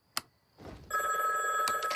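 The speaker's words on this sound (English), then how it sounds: "It's been calling all night. Just unplug the phone." A telephone rings in a cartoon household, a steady electronic bell that starts partway in and keeps going loud and continuous, after a brief click and rustle, with no one speaking over it.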